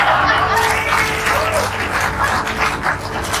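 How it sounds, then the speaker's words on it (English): A live talk show audience applauding loudly, a thick, continuous wash of clapping with voices faintly mixed in beneath it. "Terrible that you would applaud that."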